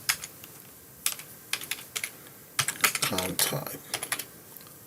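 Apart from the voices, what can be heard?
typing on a computer keyboard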